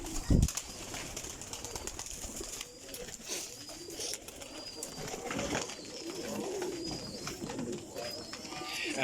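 Pigeons coo close by in a busy cluster, with a brief burst of wing flapping near the start and faint background noise throughout.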